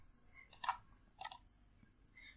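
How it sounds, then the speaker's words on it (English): Keyboard typing in two quick bursts of soft clicks, close and quiet, with faint hiss between and no talking. "Now I will type LearnIT table."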